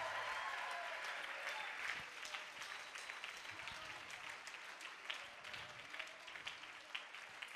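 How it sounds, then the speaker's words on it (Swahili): Applause from a church seminar congregation, a dense run of many hands clapping that stays fairly faint and distant, fading slightly toward the end. "Shangilie Bwana Yesu kwa makofi."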